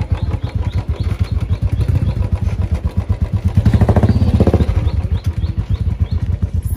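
A motorcycle engine running at idle close by, a loud steady rapid thumping putter that rises briefly as the throttle is blipped mid-way, then settles back to a chugging idle.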